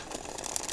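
Rapid, dense fluttering clicks of cards riffling together, a continuous crisp rattle up close with no talking.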